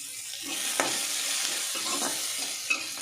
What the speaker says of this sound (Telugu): ఇంకొక నిమిషం పాటు ఫ్రై చేసేసుకొని కొద్దిగా ఫ్రై అవ్వాలండి